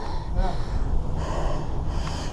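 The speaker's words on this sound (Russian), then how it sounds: "Я дышу как паровоз." Heavy, labored breathing from someone climbing upward: harsh, gasping breaths close to the mic, rushing and continuous, with wind-like noise.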